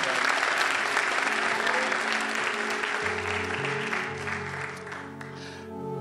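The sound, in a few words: church audience applause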